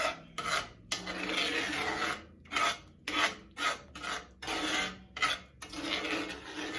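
Thick cream tuna being stirred in a pan on a switched-off burner, giving repeated scraping, rasping strokes in an uneven rhythm, fairly close and moderately loud, with no talking.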